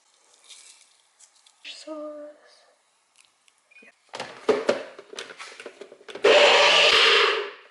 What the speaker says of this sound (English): The sauce is done, all the sauce blended up